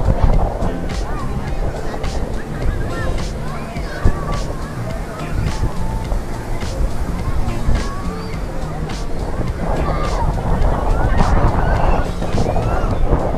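Strong wind roars and buffets the microphone over crashing sea waves on a crowded Vung Tau beach during Tet, a loud, constant wash with surf swelling near the end, alongside a busy crowd.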